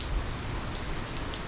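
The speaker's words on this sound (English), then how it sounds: "just rained all day basically." Steady rain pouring down in Houston during Hurricane Nicholas, a dense, even hiss of drops with no pauses and no voices.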